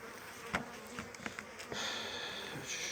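Bees buzz close by in a low, steady hum, with a few soft clicks and knocks from handling at the hive, and no talking.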